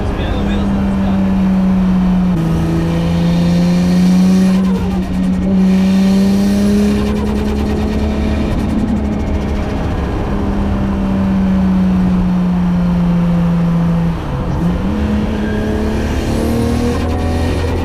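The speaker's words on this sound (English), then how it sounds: "No problem spinning the wheels on this car." A 500HP Nissan R33 Skyline sedan spins its wheels, its engine holding a loud, steady drone with a few dips and rises in pitch as the revs shift, continuing throughout.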